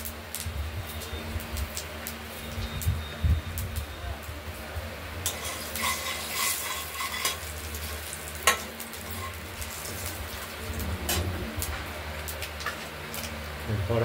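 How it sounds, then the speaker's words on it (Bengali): Bay leaf, dried chilli, nigella and cumin crackle in hot oil as a tempering, a steady close sizzle with scattered sharp pops and a few distant bird calls in the background. "এরপর তেজপাতা, শুকনো লঙ্কা, কালো জিরে আর জিরে ফোড়ন দিলাম।"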